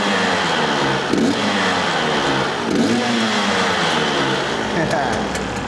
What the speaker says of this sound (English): so let's give it some revs.